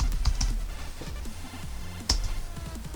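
Keystrokes on a computer keyboard typing a command into an emulator, a quick run of close, crisp clicks with a brief pause before a final burst of taps.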